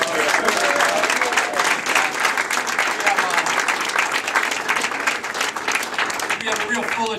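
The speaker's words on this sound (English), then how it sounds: "I'll give our mayor another round of applause." A fundraiser crowd gives a sustained, dense round of applause for the mayor, steady and loud throughout with a few voices faintly mixed in.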